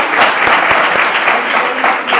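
Steady applause from a science debate audience, a dense wash of many hands clapping at moderate loudness with a few sharper individual claps standing out.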